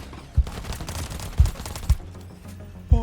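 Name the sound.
gunfire in a roller coaster video game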